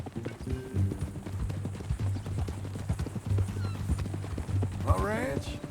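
Horse hooves clip-clop in a steady walking rhythm, close and clear, then the horse lets out a loud rising and falling whinny near the end.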